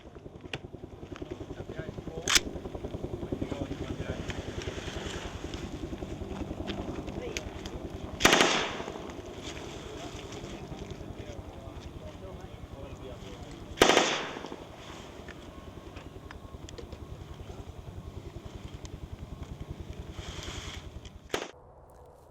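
Soldiers test firing their weapons at the edge of their lines before heading into the desert: steady distant bursts of automatic gunfire run throughout, punctuated by a few louder, sharper single reports, with talk faintly mixed in.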